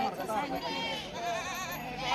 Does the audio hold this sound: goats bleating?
yes